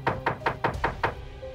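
Six firm knocks on a door in a steady, evenly spaced rhythm, close and loud, then a short quiet tail.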